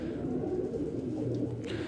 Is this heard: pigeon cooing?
yes